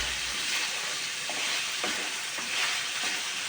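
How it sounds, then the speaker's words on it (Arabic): Beef liver frying and being stirred in a pan, a steady close sizzle running throughout with a few soft scraping stirs, no talk. "نقلب بقى الكبده بتاعتنا حبيبنا كده"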